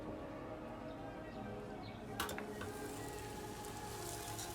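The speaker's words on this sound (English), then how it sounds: "So I'm just gonna throw this on the pan right now for frying." Tortilla-chip dough sizzles and fries steadily in a hot pan, a continuous close crackle with a brief clatter of a utensil against the pan partway through.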